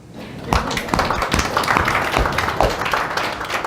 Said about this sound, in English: So with that, now is when you clap.